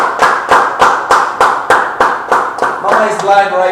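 Hands clap in a steady run of about nine sharp, loud claps, one roughly every half second, with voices and background chatter rising toward the end.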